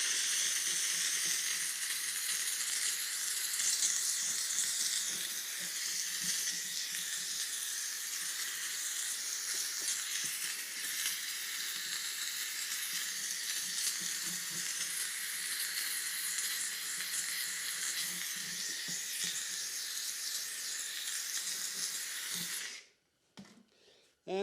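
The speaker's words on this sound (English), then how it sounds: "we just hit them again with the steam" A steam cleaner hisses against the plastic surface of an Apimaye beehive, a steady, close, fairly soft jet held for over twenty seconds before cutting off abruptly near the end, with no voices.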